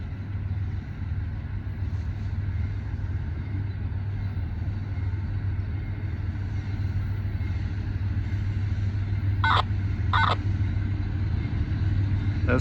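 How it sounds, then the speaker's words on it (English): A couple of brief electronic chirps from a train's end-of-train device sound close together over the steady low rumble of an idling train. "That's the front end of the train you're hearing chirping."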